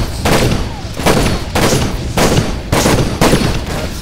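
Toy soldiers firing in the Toy Soldiers video game, about five loud, evenly spaced volleys of gunfire roughly every half-second to second, each a sharp crackling burst that quickly trails off.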